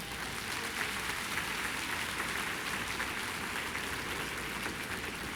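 A church congregation applauds during a sermon, sustained even clapping that sounds like a broad hiss, steady and moderately loud across the whole stretch without pauses.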